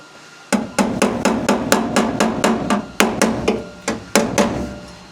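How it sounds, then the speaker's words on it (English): Steady hammer blows on sheet metal while forming a rusted car floor pan, about fifteen sharp ringing strikes in an uneven rhythm, close and loud with no talking. "We're just going to kind of like hammer and form it as we go."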